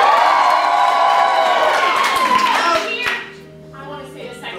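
Audience at a Dungeons & Dragons improv show cheering and clapping loudly, a dense wash of shouts and applause that fades after about three seconds into quieter scattered murmuring.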